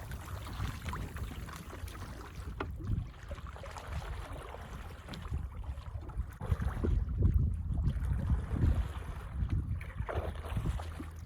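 Touring kayak paddled across a lake, with soft water swishes and splashes from the strokes over steady wind rumble and buffeting on the microphone.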